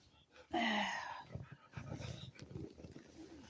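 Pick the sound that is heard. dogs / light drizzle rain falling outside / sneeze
dogs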